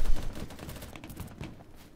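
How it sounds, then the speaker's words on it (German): Gunfire in the shooter game Battlebit Remastered, a burst of rapid cracking shots opening loudly and trailing into scattered, fainter reports over two seconds. "vier verschiedenen Winkeln habe ich da ja Schüsse drauf gekriegt"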